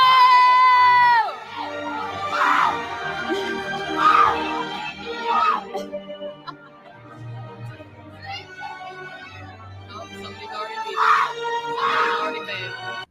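A crowd cheers and shouts in a replayed clip, with whooping voices rising and falling in several loud swells over sustained tonal background sound.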